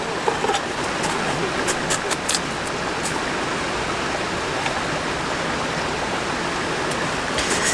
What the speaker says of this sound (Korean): 물소리 엄청 크죠, 여러분?